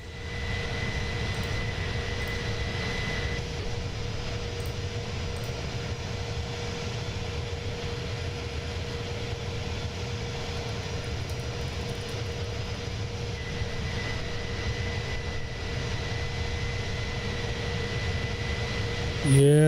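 Engines of an Inibuilds Airbus A310 airliner in Microsoft Flight Simulator 2024, a steady, loud, continuous roar and drone with a faint tonal whine, held evenly throughout with no talk.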